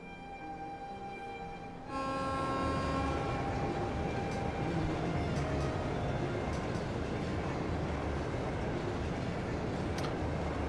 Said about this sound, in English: High-speed train Crusader